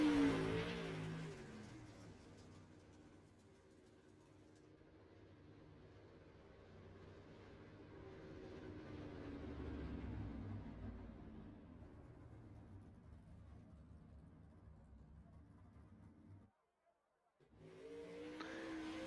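A dirt late model race car, the number 46 machine, runs laps on a dirt track at Kern County Raceway, its engine droning and swelling as it passes, then fading, with a brief dropout before the roar returns.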